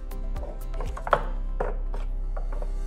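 Garlic cloves with salt are chopped on a board for garlic paste, a series of sharp, close knife knocks in an uneven rhythm with no talk.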